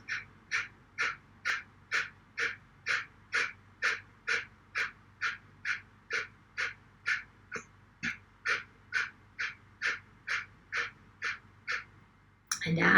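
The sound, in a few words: breathing exercise, breathing out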